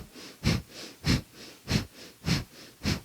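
Rapid, even breaths pump in and out through the nose during kundalini yoga, about two sharp, close strokes per second in a steady rhythm with nothing else heard.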